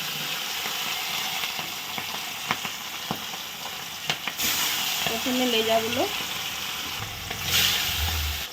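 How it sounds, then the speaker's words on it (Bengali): Fish pieces fry in hot oil in a wok, a steady close sizzle with small clicks and pops as pieces are added, while someone talks briefly over it. "কড়াইতে তেল বসিয়ে দিয়েছি তেলটা গরম হয়ে গেছে মাছগুলো এখন এক এক করে দিয়ে দেওয়া হচ্ছে"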